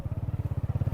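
A motorcycle engine thrums with a steady, rapid pulsing beat, fairly close, at a three-way road junction near flooded mud houses, with no talking.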